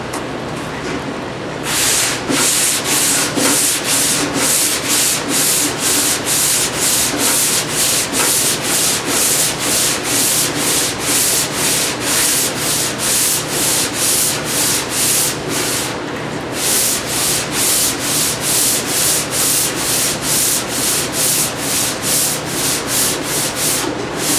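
Steady back-and-forth rasp of 180-grit paper being block sanded over a Camaro door panel, a loud, continuous rhythmic scrubbing that runs unbroken for the whole stretch with no voices.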